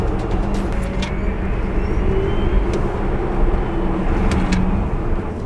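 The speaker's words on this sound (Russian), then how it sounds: "Этот звук — это как раз звук разгона." A Tesla Model S P90D electric car accelerates through snow, giving a steady, fairly loud drive whine and road rumble that holds evenly with a few faint clicks on top.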